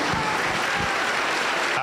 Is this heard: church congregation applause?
yes